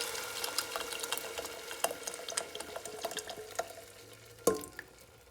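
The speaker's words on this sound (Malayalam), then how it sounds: "ഇനി ഇതിലേക്ക് നമുക്ക് മാവ് ഒഴിക്കാം." Kalathappam batter is poured into a hot pan, giving soft liquid splashing and gentle sizzling with scattered small clinks, quiet and close, ending with a sharper knock.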